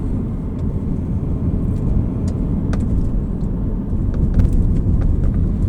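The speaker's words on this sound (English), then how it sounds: "I wasn't even going fast there, I was just accelerating." A car accelerates under steady, loud broadband engine and road noise, heard from inside, recorded on a Poco F2 Pro phone camera; no talking.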